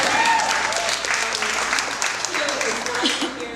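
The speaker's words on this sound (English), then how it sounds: "I have to give an applause to all of you, and maybe applause for yourself" Applause from an audience of women at a Spoiled Latina Day keynote, dense clapping filling the room while a voice speaks over it and the clapping thins toward the end.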